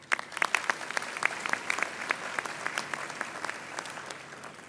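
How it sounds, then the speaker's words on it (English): A graduation ceremony audience at a university gives a steady round of applause, a dense patter of many hands at moderate distance that carries on for several seconds without speech. "One more round of applause."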